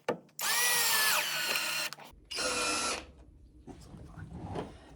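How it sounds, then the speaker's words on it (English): Power drill driving screws into a split wooden stair tread in a remote Alaska cabin, two long whirring bursts with a short pause between them, close and loud, then quieter handling noise. "by keeping even pressure on the drill, I will prevent stripping out those heads"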